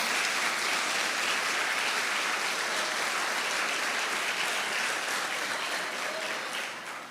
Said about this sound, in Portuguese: pode dar uma linda salva de palmas para Jesus?